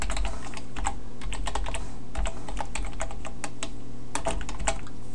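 Rapid, steady typing on a computer keyboard while writing HTML and CSS code, a close, continuous run of crisp key clicks with a few louder strokes and no talking.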